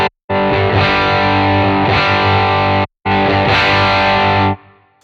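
An electric guitar played through an Analogman King of Tone overdrive pedal rings out in two loud, sustained distorted chords, one bright and one warm, separated by a brief gap and decaying at the end.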